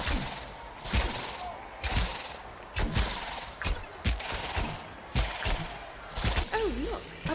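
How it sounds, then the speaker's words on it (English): Neith's bow firing in the video game Smite, a run of sharp twanging shots spaced roughly every second over ambient game noise, with a short whooshing effect near the end. "press the left mouse button to fire Neath's bow"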